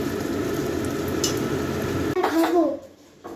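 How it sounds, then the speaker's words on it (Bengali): Luchi sizzle and bubble in hot oil in a home kitchen, a steady frying hiss with utensil clinks and a voice nearby, then the sizzle drops away as the pan goes quiet. "এখানে যে লুচি ভাজা হয়ে গেছে"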